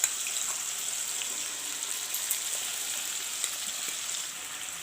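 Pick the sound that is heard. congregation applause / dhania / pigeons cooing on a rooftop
dhania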